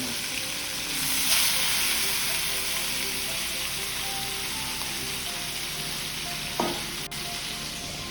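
Rohu fish frying in hot oil, a continuous dense sizzle like rain on a surface, close and even, with a couple of brief clicks from handling the pan.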